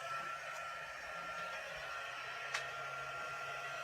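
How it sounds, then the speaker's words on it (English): A heat gun running for embossing, a steady whooshing blower hiss with a faint motor hum, constant and close, with a small click partway through. "I'm going to go ahead and turn on my heat gun"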